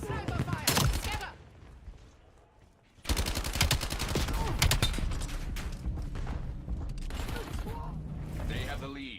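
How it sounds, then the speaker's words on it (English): Sniper gunfire in an online shooter video game, with sharp repeated shots and dense firing bursts mixed with game sounds and voice chat over them. "Sniper fire."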